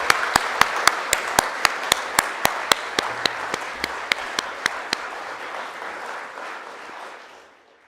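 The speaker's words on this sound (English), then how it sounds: "Round of applause, ladies and gentlemen." An audience at a regional sports awards ceremony applauds, with soft background clapping under a series of sharp, evenly spaced louder claps close by, fading out toward the end.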